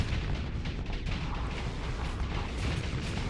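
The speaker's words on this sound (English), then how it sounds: "That's a cool torpedo that those bombers have. It blows up into just a ton of little ones." In the StarSector space game, bomber torpedoes burst apart into many small ones, giving a dense, continuous rumble of overlapping muffled explosions with no clear gaps.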